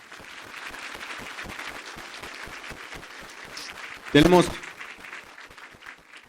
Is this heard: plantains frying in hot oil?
no